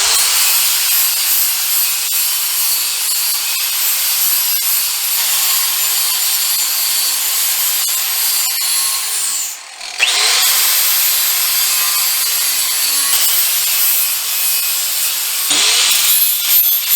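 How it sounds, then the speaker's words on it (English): Angle grinder with a flat disc grinding steel down to bare metal on a welding table build, a loud close steady whine with a harsh hiss, briefly dipping and resuming. "grab my angle grinder with the flat disc. And all I'm doing is just kind of getting down to the bare metal where I'm going to be welding."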